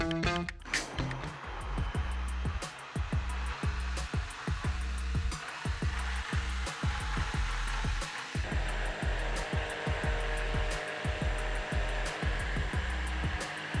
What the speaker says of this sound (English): the Braun MultiQuick-5 took just 47 seconds to produce 1 serving of almond milk